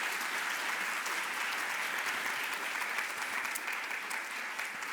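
Steady, even applause rises from an audience at a scholarship holders' welcome event. The clapping is dense, continuous and moderately distant, with no voices on top.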